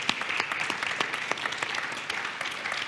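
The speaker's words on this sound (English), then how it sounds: "So a round of applause for you." Audience applauding panelists at a security conference, dense even clapping from many hands sustained across the whole stretch, moderately near.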